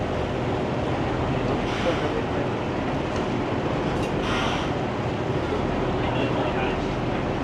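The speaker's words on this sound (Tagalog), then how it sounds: "Grabe yung alon dito." Choppy river waves on the Chao Phraya River heard from a moving boat, a steady broadband wash of water and wind noise filling the whole stretch, with no talk over it.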